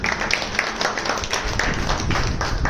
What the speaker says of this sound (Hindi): मैम एक बार जोरदार तालियां बननी चाहिए मैम के लिए सबसे पहले